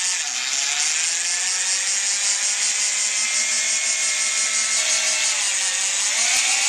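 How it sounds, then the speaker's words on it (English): Electric drill running steadily and loudly at a constant speed, a continuous whining hum held throughout while working on a 1995 Suzuki Sidekick engine rebuild, with no talking. "Now I can hold my drill with almost no effort."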